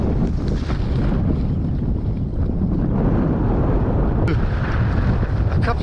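Steady, loud wind roars across a river estuary saltmarsh in Essex, a constant rumbling buffet with no pause.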